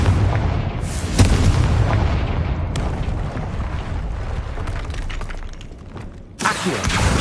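Confringo blasting spell explosions in Hogwarts Legacy: a loud, sustained roar of booming blasts and rumbling debris that swells near the start, then fades slightly before a fresh burst near the end, with no talking.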